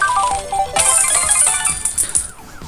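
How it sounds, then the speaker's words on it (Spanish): A phone rings in the video game Grand Criminal Online, a bright chiming ringtone melody with a high sustained tone and tinkling clinks, loud and close. "Ya me están llamando por teléfono"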